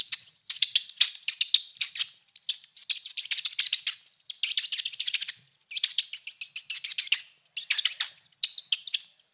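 A voice imitates birds and squirrels chattering, loud and close. It gives rapid bursts of high chirps, tweets and rattling chatter in quick repeated phrases separated by brief pauses, and nothing else is heard behind it.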